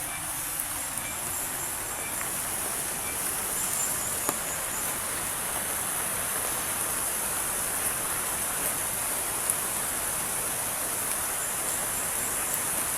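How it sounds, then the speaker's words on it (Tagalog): Heavy rain pours down in a steady, dense hiss that stays even and unbroken throughout, with no voices over it. "mas lalo pang lumakas yung ulan guys"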